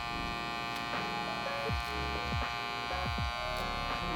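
An electric shaver runs steadily through a barbershop haircut, its close, even buzz trimming hair with brief shifts in pitch as the blade moves across the head.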